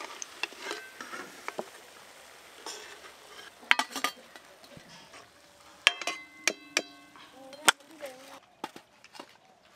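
Egg chops deep-fry in hot oil, Bengali street-style, with soft bubbling patter and scattered sharp spits and clinks up close, under intermittent talk.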